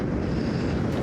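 Strong wind at a popular surfing beach on the UK coast buffets the microphone in a continuous rushing roar, with the churn of high waves blended underneath.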